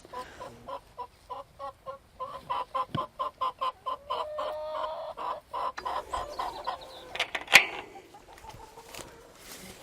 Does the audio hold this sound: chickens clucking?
yes